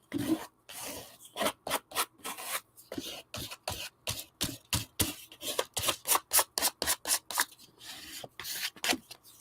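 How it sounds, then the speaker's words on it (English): Excess material being scraped off during wax seal collage work: a rapid series of short, rasping scrapes in quick strokes, close and crisp, with brief pauses between bursts. "Scraping off the excess."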